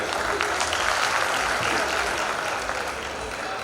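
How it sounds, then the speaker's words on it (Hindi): An audience at an Indian poetry recital (kavi sammelan) applauds in loud, sustained, dense clapping that fills the hall at an even level throughout. "एक बार जोरदार तालियों से बुलाइएगा।"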